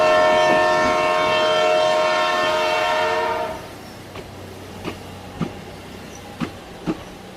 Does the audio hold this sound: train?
yes